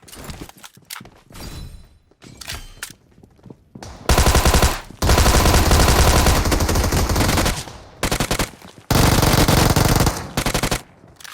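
Machine gun fire in PUBG Mobile, sustained loud automatic bursts with short gaps after a few scattered earlier shots, close and dominant.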